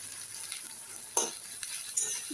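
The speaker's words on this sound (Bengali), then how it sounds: "পেঁয়াজটা ভালো করে ভাজা হয়ে যাক।" Chopped onions fry in oil in a home kitchen pan, a soft steady sizzle with occasional scrapes and clinks of a stirring spatula, quiet and close.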